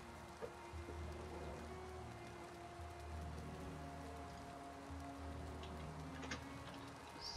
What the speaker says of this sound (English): Oh no, rain too.